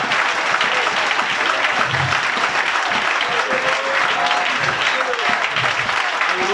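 A church congregation applauds the Lord Jesus Christ in a sustained, dense burst of clapping that fills the room steadily from start to finish.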